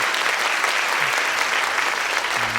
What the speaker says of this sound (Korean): 우리 황세현 목사님께 우리 큰 격려와 축복의 박수 부탁드리겠습니다